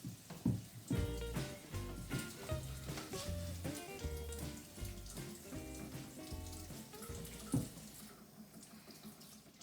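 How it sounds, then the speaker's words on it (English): Tap water runs into a sink while hands are washed, a steady splashing stream with uneven clattering and burbling changes as the flow is interrupted, fairly close and alone. "So the first thing you do is wash your hands."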